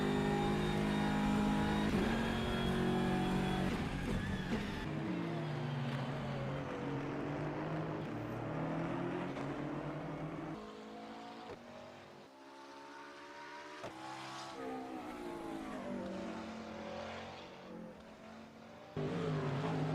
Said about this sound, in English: On board here with Artevieira in the BMW